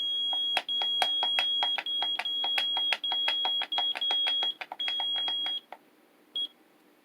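A continuity tester on a Sunko 737DH battery spot welder beeps in a fast, uneven string of short sharp tones while its foot pedal reads as constantly tripped, then breaks off, giving one last isolated beep after a pause.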